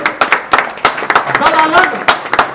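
An audience at a Brahmin Mahasabha gathering in Delhi claps in quick, uneven bursts, loud and close, with voices talking over the applause.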